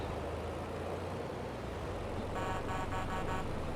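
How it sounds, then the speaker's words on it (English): A truck horn in Farming Simulator 22 sounds a quick series of about four short, bright honks over a continuous engine rumble, loud and close. "I love it when trucks have a decent horn."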